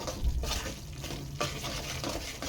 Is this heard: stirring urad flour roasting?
yes